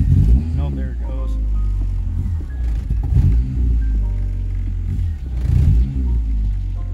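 A Honda car engine with a VTEC fault and a check engine light, idling roughly and bogging as it is given gas, a loud close rumble that swells and sags unevenly, with people talking over it.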